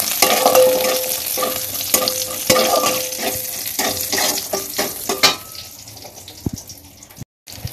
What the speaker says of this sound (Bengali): তো এগুলো এবার একটু ভালো করে ভেজে নিই।